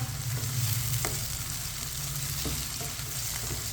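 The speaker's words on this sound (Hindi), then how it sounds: "अब इसे 3-4 मिनट के लिए पका लेते हैं, इसी तरह चम्मच चलाते हुए।" Chicken for chicken macaroni cooks in a pan with a steady, moderate sizzle, while a spoon stirs it and scrapes now and then in a few soft knocks.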